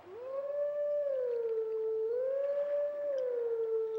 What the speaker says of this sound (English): And then what we're going to do is we're going to howl.